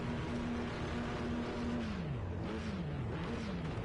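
Le Mans race cars in the pit lane during practice, one engine holding a steady note, then revving down and up in wavering swells over a constant mechanical background.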